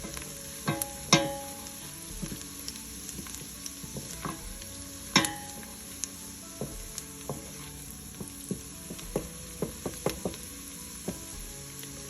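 Onions frying in a soup pot for cheesy potato soup, stirred now and then, with a steady soft sizzle broken by scattered clicks and scrapes of the spoon against the pot, close up and alone.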